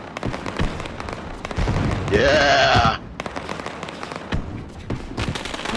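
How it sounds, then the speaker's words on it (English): Fireworks burst in the background at a racetrack celebrating a race win, a steady crackling roar with a rising whistle-like streak midway, heard at a distance under crowd noise and a brief spoken word. "And there's the fireworks going off, folks."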